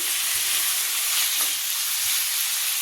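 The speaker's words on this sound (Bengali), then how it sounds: "এর মধ্যে হলদি গুঁড়ো দিয়ে এটাকে ভালো করে ভেজে নেবো" Chili and turmeric powder fry with potato and pointed gourd in a hot pan, giving a loud, continuous close-up sizzle with a few faint scraping stirs underneath.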